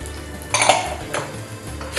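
Rice being stirred with fried vermicelli in a metal pot for koshari, heard as short close scraping and clattering bursts of a spoon against the pot over a brief stretch of quiet.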